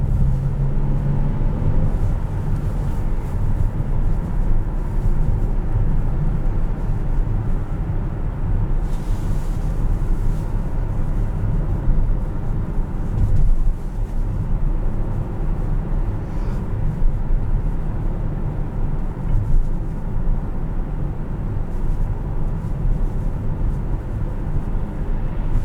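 A 2018 Honda Odyssey EX-L minivan on the move, its engine and road noise forming a steady low rumble inside the cabin for the whole stretch, with no talking.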